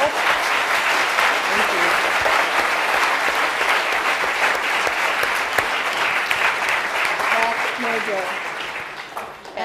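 Lecture audience applauding at the end of a distinguished talk, sustained dense clapping from a hall full of people that fades slightly at the end, with a brief spoken word near the close.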